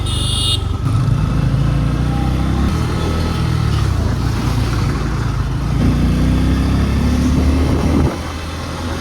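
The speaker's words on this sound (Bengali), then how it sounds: "বাইক এন 250 আমাকে চালাতে অনেক ভালো লাগলো" An N250 motorcycle engine drones loud and steady while being ridden, with a continuous low rumble and wind, and a slight shift in pitch near the end.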